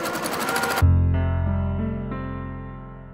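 A sewing machine stitching a straight seam on an 18th-century shift runs in a short, fast whirring burst and then stops abruptly, leaving a fading low hum and faint ringing.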